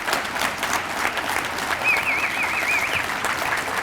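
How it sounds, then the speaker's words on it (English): An audience at a high school district address claps steadily throughout, a dense even patter of applause with a few faint voices underneath. "can we give our student ambassadors a round of applause?"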